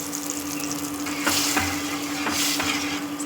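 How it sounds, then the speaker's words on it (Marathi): Garlic tempering dropped into hot oil for spinach bhaji, a sharp sizzle that swells in bursts of crackling spatter, close and alone with no voices. "आवाज आला पाहिजे फोडणीचा"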